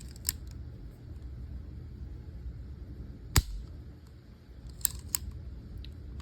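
The trigger of a Star BM9 pistol, a decommissioned Spanish National Guard surplus handgun, is dry-fired with one sharp metallic snap of the hammer falling, set among a few quieter clicks of the mechanism in a quiet room.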